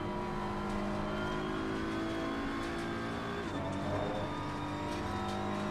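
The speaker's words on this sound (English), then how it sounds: "hopefully you guys can hear the engine sounds all right" Race car in Assetto Corsa Competizione with a steady, loud engine drone from the cockpit, its pitch dipping and rising as it shifts, with faint tire noise and no talking.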